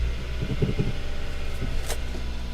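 A manual-transmission car with crash damage sits running after starting, its engine idling in a steady, loud low rumble with a brief higher whir partway through.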